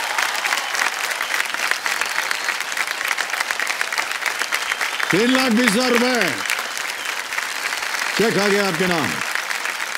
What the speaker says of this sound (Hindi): तालियां बज जाएं जोर से इनके लिए।